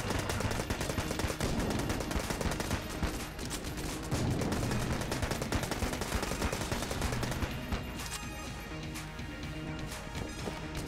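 Rapid automatic Uzi fire in the video game Enter the Gungeon rattles on almost continuously with dense, loud bursts and game effects layered over it, thinning toward the end as other game sounds take over.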